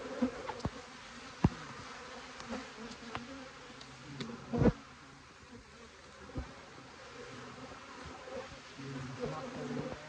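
Honey bees buzzing around a hive during the first inspection of the year, a steady low hum with sharper passing buzzes as individual bees fly close to the microphone.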